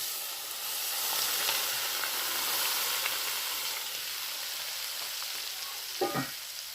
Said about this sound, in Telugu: బాగా నూనె మరిగిన నూనె ఇందులో వేసుకోవాలి